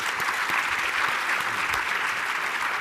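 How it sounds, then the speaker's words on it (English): An audience at a defense cooperation panel forum applauds the panelists, a steady, dense round of clapping that fills the room for the whole stretch with no talk over it. "will you join me in a round of applause for our panelists?"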